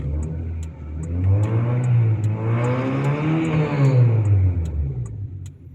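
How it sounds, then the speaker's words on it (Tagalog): A Honda CR-V 2.0 engine revs up and down in two smooth sweeping swells, rising in pitch and then easing back, close and fairly loud, with no voices over it. "Yung pag tinapakan ko kaya tumitunog yung makina."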